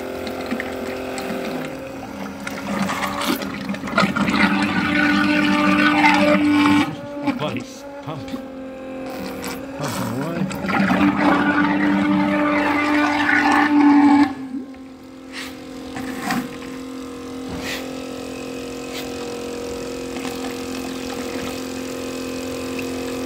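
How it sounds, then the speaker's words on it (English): A Milwaukee IPX4 cordless transfer pump draws 68 grade hydraulic oil with a steady, close motor drone and churning flow that swells and eases over time, while someone talks over it. "As you can see, it's just picked up that 68 grade hydraulic oil like it's nothing."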